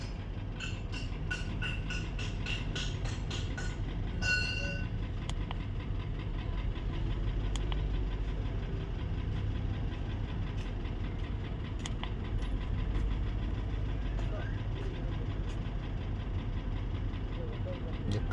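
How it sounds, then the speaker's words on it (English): Mercedes GL450 engine idling with a misfire: a steady, low, rough rumble throughout, with a short jingle of keys near the start. "The car is rustling, misfiring."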